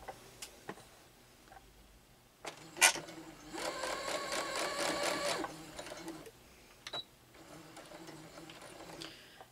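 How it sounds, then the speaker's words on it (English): A sewing machine fitted with a piecing foot stitches a churn dash quilt block in a close, steady mechanical whir lasting a few seconds, framed by soft clicks and handling taps before and after. "I'm just going to sew on both sides of my line."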